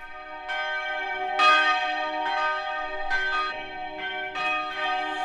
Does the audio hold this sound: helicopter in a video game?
no